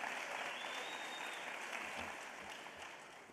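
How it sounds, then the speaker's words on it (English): An indoor audience at a 2020 teacher of the year celebration gives a round of applause for a podium wiper. The clapping is dense and steady at first, then slowly thins and fades. "Let's give him a big round of applause"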